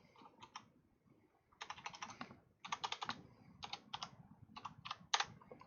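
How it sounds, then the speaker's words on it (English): Keys tapped on a calculator keypad in clusters of quick clicks, with short pauses between bursts of typing, fairly close and distinct. "my calculator that I was typing on you couldn't see"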